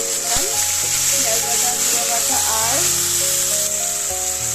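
Onions and green chillies fry in a pan with a constant bright sizzle, while a voice talks over the cooking throughout.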